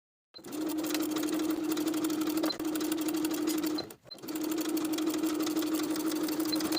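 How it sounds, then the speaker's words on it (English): Sewing machine topstitching bias binding on a tank top, a steady, even motor hum with rapid needle chatter in two long runs split by a brief pause, fairly quiet and close. "Top stitch the binding in place with a 3/8 inch seam allowance"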